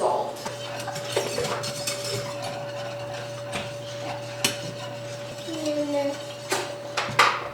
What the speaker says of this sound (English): I'm just going to stir those gently until they're dissolved